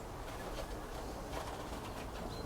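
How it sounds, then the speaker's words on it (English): Soft low cooing of a dove or pigeon inside a greenhouse over a constant background hiss, faint and indistinct, with no talking. "There's a bird in here."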